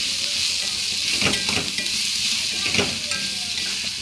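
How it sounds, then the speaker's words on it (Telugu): Onion and garlic chutney frying in a pan gives a loud, steady sizzle, with a spoon stirring through it in a few short scraping strokes. "ఇది తరచు గలబెడుతూనే ఉండాలి లేకపోతే అడగంటుంది"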